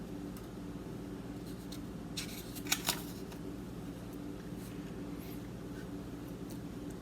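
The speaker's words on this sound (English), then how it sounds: "So I'm going to cut one of my shapes off." Scissors cutting a paper shape for a first grade shape project: a few faint, quick snips close by against a steady low background hum, with no talking.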